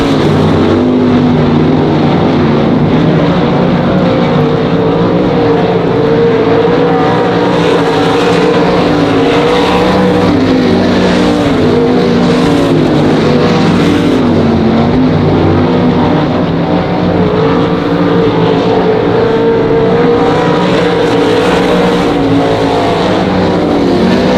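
Race cars at Monarch Motor Speedway roar around the track in a loud, sustained engine drone, with pitch rising and falling as cars swing through the turns and pass close, continuous for the whole stretch.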